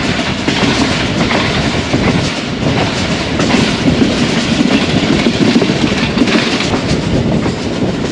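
Steady rumble and rhythmic clatter of the 14DN Awam Express rolling along the Peshawar–Lahore line, wheels clacking over rail joints continuously at close range with no voices.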